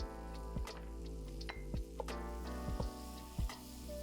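Pressed garlic sizzling steadily in a hot pan while a gnocchi dinner is cooked, with soft scrapes and clicks of stirring now and then, close and even, with no talking.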